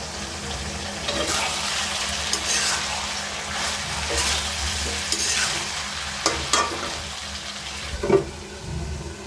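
Okra curry with tomatoes and spices being stirred and sautéed in a pan, a steady sizzle under repeated scraping strokes of a spoon, close and moderately loud, with no talking.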